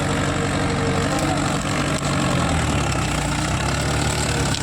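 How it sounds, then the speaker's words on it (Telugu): A Mahindra 575 DI MS tractor engine idles with a steady, low rumble that stays even and close throughout, with no voices. "Mahindra Bandi 575 DI MS tractor"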